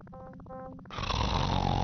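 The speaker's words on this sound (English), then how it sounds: "He snores in response." A man snoring in the Laura Bow 2 video game, a short rhythmic snore loud and close after a brief stretch of game music.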